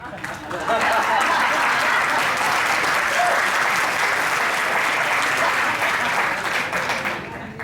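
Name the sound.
audience applause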